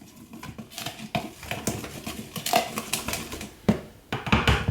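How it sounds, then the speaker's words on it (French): Spoon clinking and scraping around a bowl while stirring sugar, salt and cocoa powder for small Duplo-style tarts, a steady run of close, bright taps and scrapes with a few louder knocks. "Et avec une cuillère, je mélange."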